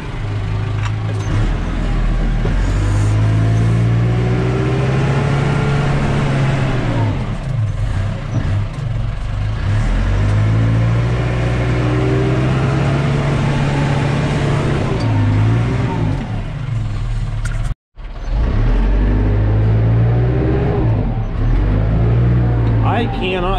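Backhoe engine labors loudly and steadily while the machine climbs a hill on poor tires and slides sideways, with the rumble rising and falling and a brief cut near the end.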